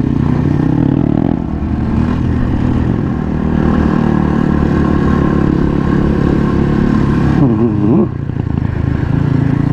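A motorcycle grinds up a steep mountain road in first gear, its engine droning loud and close with steady strain, a brief dip and wavering revs near the end.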